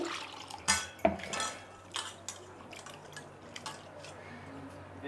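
Flattened rice (poha) being rinsed in water in a metal vessel: sharp clinks and knocks of the vessel, then softer sloshing and light clatter, close by.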